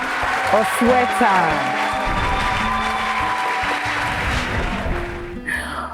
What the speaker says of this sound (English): A round of applause for Dr. Osa